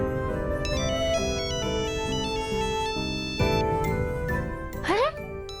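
A mobile phone ringtone plays a bright, chiming electronic melody of repeated stepped notes, close and prominent, ending with a quick rising glide before cutting off.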